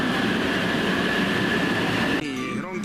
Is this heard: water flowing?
no